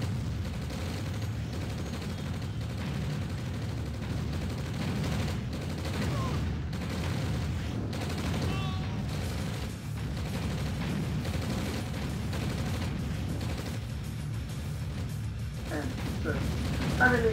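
Tanks fire on ore harvesters in a Red Alert 2 match: a steady, dense barrage of cannon blasts and crashing explosions that runs without pause, with a few sharper impacts near the end.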